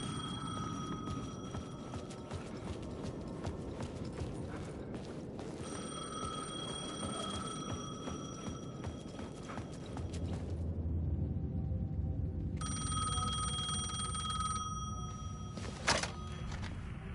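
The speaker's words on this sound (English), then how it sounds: "The payphone was ringing." A payphone rings in the video game Alan Wake 2, its bell sounding in repeated bursts with pauses over a low rumbling ambience, and no one speaks.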